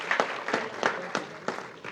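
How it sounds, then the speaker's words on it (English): Scattered applause from an audience at a school writers' week event, a few distinct claps standing out from a light, thin patter. "Round of applause for all of those people and yourselves."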